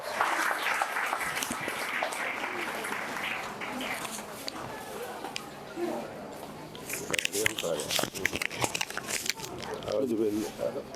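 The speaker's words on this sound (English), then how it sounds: "Let's clap for him, please. A round of applause." Applause at a school graduation ceremony in New Yundum, a sustained crowd clapping that builds toward the end, with voices and background chatter mixed in.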